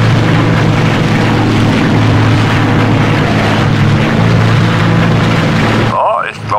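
A simulated aircraft engine in the flight simulator X-Plane 11 drones loud and steady, then cuts off abruptly just before the end.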